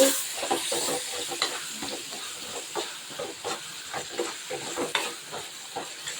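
Drumstick (moringa) pieces frying in oil for a dried-fish curry, a continuous close sizzle with rhythmic scraping stir strokes repeating throughout.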